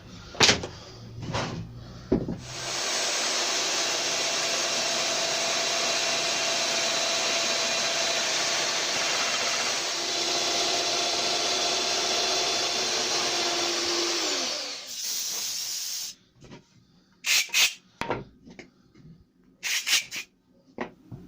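Woodworking cutting machine fitted with a 10mm cutter and run without an extractor, set for 15mm depth, gives a loud steady whine for about twelve seconds with a pitch dip as it cuts, then spins down; brief knocks follow.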